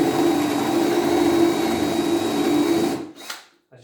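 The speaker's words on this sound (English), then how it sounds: "set up the drill" An electric drill with a spur bit bores a roughly 20mm hole through a kitchen base unit panel, its motor giving a steady, loud whirring hum that cuts off abruptly near the end.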